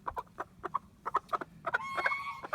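A chicken held still for wing clipping clucks in a quick, irregular series of sharp, close calls, its squawks growing more insistent and drawn out toward the end, with no talking.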